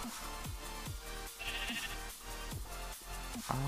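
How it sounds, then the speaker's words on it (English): Sheep in Minecraft bleat repeatedly in short wavering calls, evenly spaced over steady background game music. "Oh, here's the sheep."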